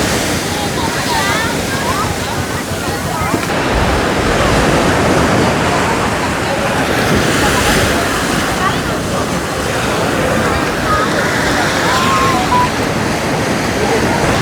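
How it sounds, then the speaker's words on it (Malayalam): Strong sea waves crash on the beach at Thiruchendur, a loud, constant roar of surf with wind buffeting the microphone. Voices can be heard faintly beneath the noise. "നല്ല ഫോഴ്സിലാണ് തിര വരുന്നത്."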